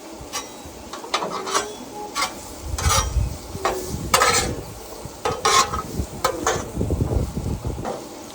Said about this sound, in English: I'm doing the mixing now on the Blackstone